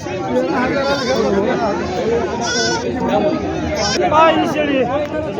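Goats at the Jawala goat market in Maharashtra bleat several times, loud and close, over a busy crowd of people talking and haggling.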